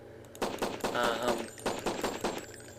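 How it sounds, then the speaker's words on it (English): A suppressed Glock 17 in a video game fires exploding rounds, a quick string of heavy, booming shots in two bursts, each blast landing with a thumping roar in the foreground. "This will just fire exploding shots all the time."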